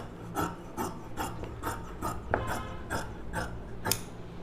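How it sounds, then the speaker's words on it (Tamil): Scissors cut through a silk cotton blouse sleeve at close range in a steady rhythm of about ten crisp snips, each a short rasping slice through the fabric, with no voices. "இந்த ஸ்லீவ் மேலே கட் பண்ணிவிடுங்க"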